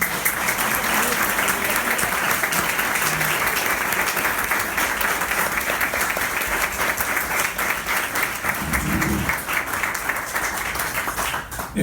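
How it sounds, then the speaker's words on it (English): Dense, sustained applause from a sizable audience at a benefit concert at Caffe Lena in Saratoga fills the whole stretch, loud and steady, with a few murmuring voices mixed in toward the end. "Let's give them a round of applause."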